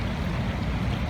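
A car driving through deep flash floodwater on a city street, pushing up a wave: a continuous low rushing, churning water roar, loud and steady throughout.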